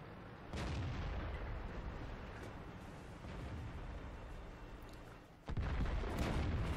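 A tank cannon in World of Tanks fires a heavy, booming shot that misses, with a second blast near the end over a constant low battlefield rumble.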